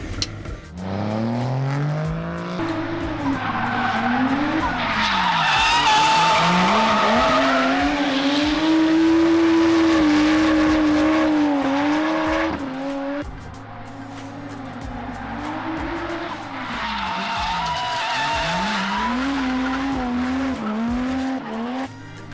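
A Toyota JZX100 with an automatic gearbox driven hard for a lap: a loud, continuous engine roar rising and falling through revs, with sustained tire squeals and skidding layered over it and a brief dip midway.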